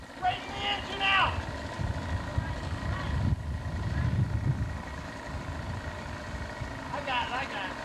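An outboard motorboat engine runs on a lake in 1985, a rough low rumble under excited shouting family voices, with wind and water noise around it.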